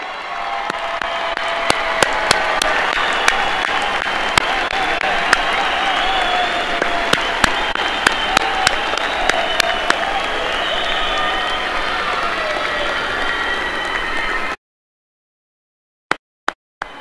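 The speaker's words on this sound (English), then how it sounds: "let's give them a loud, loud round of applause" A high school graduation crowd gives parents a loud, sustained round of applause, with dense clapping and scattered cheers filling about fifteen seconds before the sound cuts off abruptly, followed by a few isolated thumps.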